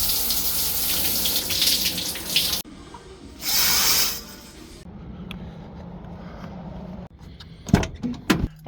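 Water runs steadily in a van parked overnight in a store parking lot, a broad hiss that cuts off, surges briefly again, then gives way to quieter rustling and a few sharp knocks near the end.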